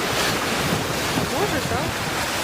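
Black Sea waves breaking against the rocks at Cape Tarkhankut in Crimea, a continuous loud wash of surf and wind buffeting the microphone, with faint voices beneath.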